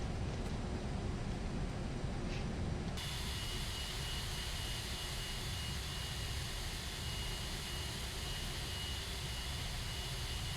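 Airbus A330 jet engines roar in a steady, dense wash of noise during landing rollout in a flight simulator, loud and unbroken throughout with a sudden tonal shift about three seconds in.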